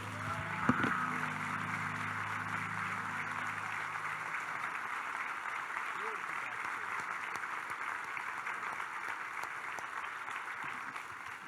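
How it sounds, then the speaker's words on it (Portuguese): A church congregation applauds in a cold church, a sustained even wash of many hands clapping heard from a distance, fairly faint, with a brief voice at the start. "Dá uma salva de palmas para o nosso Deus aí"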